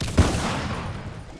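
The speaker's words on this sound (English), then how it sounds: "Wow, the explosion of that." A single sharp blast in Fallout 4 opens the scene: one loud, booming explosion up front that rolls off into a long, rumbling decay with no voices over it.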